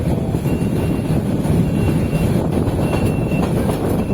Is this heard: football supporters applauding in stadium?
no